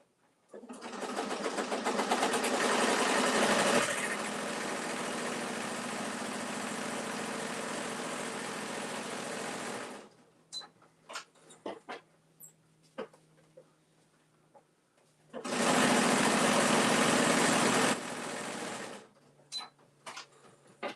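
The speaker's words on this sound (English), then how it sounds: "she loves the sound of a sewing machine" A sewing machine stitching a cosmetic bag runs steadily in two long bursts, a dense mechanical whir that stops, leaving scattered clicks and handling noises in between.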